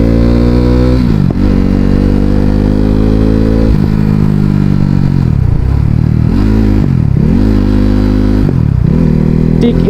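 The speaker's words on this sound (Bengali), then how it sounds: "এভাবে গিয়ার শিফট করবা পিক আপ ছেড়ে দিবা এভাবে ক্লাস ধরবা গিয়ার উপরে উঠাবা" KTM RC 390 motorcycle revs hard and climbs through several gear shifts, each shift breaking the pitch before it rises again, loud and close throughout.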